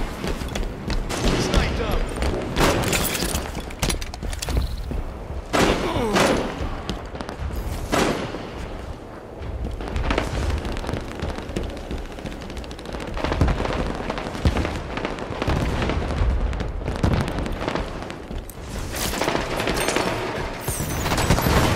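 Scattershot fire in the Halo 5: Guardians Warzone video game: dense, loud bursts of shots repeating throughout, with someone talking over the gunfire.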